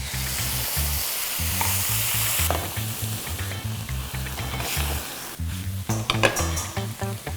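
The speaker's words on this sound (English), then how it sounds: "Now we're also gonna deglaze." Pan of roasted mushrooms hissing as it is deglazed, a steady loud sizzle with stirring scrapes and a few metallic clinks near the end, no voices.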